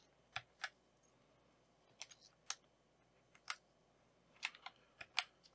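Windows keycaps being fitted onto a Keychron V1 mechanical keyboard give sharp, close plastic clicks and snaps, arriving in scattered single hits and small clusters against a quiet background.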